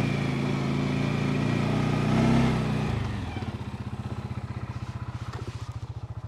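Farm vehicle on a sheep farm during lambing season, starting as a loud close engine roar that settles into a steady pulsing idle chug as it passes, with no talk.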